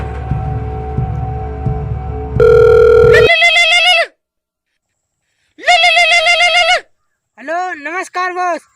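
A telephone rings in electronic bursts with pauses between them, after a low rumbling background and a tonal beep at the start.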